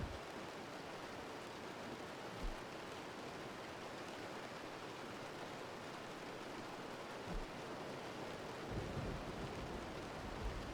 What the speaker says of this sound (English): We're just gonna wait for the winds to chill out a little and for the massive hail core to finish.